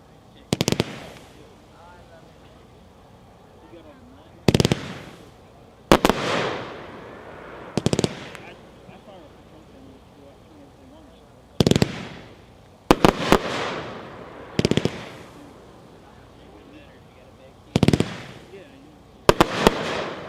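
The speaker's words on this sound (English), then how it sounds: "Number 5, Gluten-Free Glitter by Mad Ox, packed 4-1, 30 shots." Gluten-Free Glitter by Mad Ox, a 30-shot firework cake, fires loud separate booming shots in irregular bursts across the clip, each thump followed by a crackling tail, with gaps between volleys.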